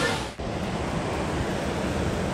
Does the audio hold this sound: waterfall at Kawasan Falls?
yes